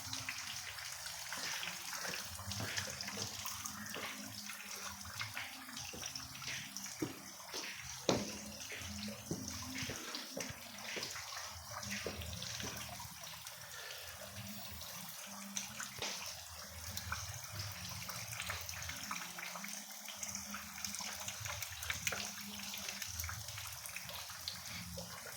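A stream of water falling and splashing inside the Singimale railway tunnel between Kotagala and Hatton, a continuous soft gushing patter that holds steady throughout, faint and unaccompanied by talk.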